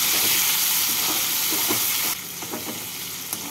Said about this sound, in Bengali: টমেটোটাকে তেলের মধ্যে নাড়াচাড়া করে নেব।